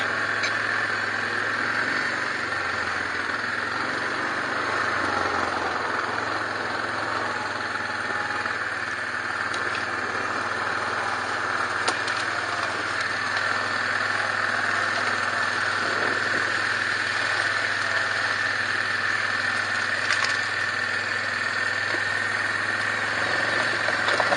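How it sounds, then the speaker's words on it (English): A motorbike engine runs at a steady idle or low speed throughout, a continuous, loud, mid-pitched drone with a high whine on top, heard up close on a hilly track while out scouting for turkey hunting. "I'm just going to go up over the hill here and pull the bike off to the side"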